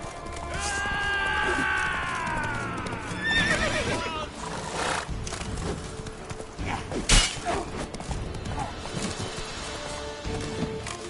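A horse in The Witcher 3 video game whinnies loudly with hooves clip-clopping beneath, followed by continued galloping and game ambience over a steady, busy soundscape.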